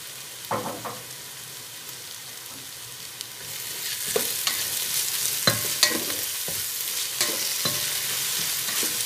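Onion, ginger and garlic sauté in a pan for biryani, with a few sharp stirring scrapes at first, then a steady, brighter sizzle running beneath repeated spatula strokes.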